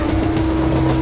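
A Mumbai commuter train passes on the tracks, with a loud, close, continuous rumble and rhythmic clatter of wheels over rails.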